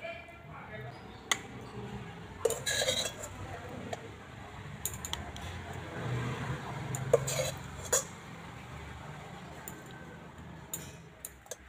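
Cooked lemon chana dal is spooned into a bowl with faint, scattered clinks of a spoon against the dish, while a voice talks over it.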